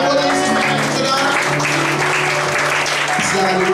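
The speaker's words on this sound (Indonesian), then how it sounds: "Tepuk tangan buat Yesus, saudara." A church congregation claps together in dense, steady applause that fills the whole moment, with voices and a sustained musical tone underneath.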